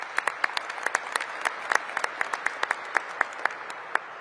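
Crowd applauding at a Trump event, heard as a played-back recording: sparse, distinct hand claps in an uneven rhythm, fairly faint and thin, with little else around them.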